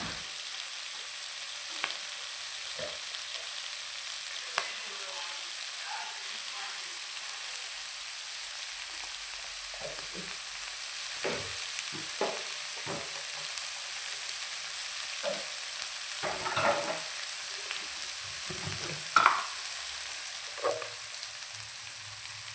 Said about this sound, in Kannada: ಈಗ ಸ್ವಲ್ಪ ಫ್ರೈ ಆಗಲಿ ಆಯಿತಾ ಸ್ವಲ್ಪ ಫ್ರೈ ಆಗಲಿ